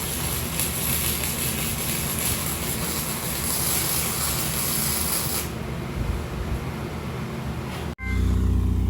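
A Pontiac Sunbird GT convertible idles with a newly fitted exhaust, giving a loud, steady broadband rumble for about eight seconds before an abrupt cut to a deeper, closer drone.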